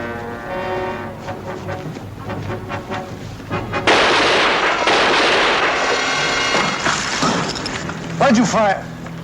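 Loud bursts of gunfire in a wartime combat drama, a sharp blast followed by a sustained stretch of crackling shots and echoes, with raised voices over the battle noise.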